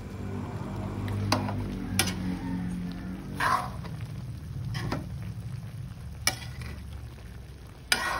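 A spoon stirs a pot of boiling pork and chicken feet adobo, with soft sizzling and simmering underneath and a few sharp clinks of utensil against metal.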